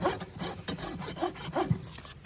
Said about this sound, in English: but also rasping some length off that toe while I'm doing it